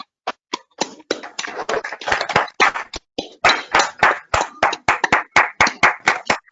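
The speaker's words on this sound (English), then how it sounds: "can we give a round of applause?" A lecture audience breaks into brisk, loud applause, distinct claps rising and falling in bursts for several seconds, with no talking on top.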